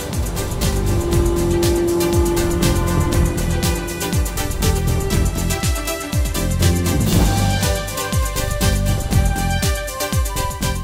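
Dense, continuous city traffic in Luanda: many engines rumbling and revving, horns and clatter layered together in a loud, busy street din.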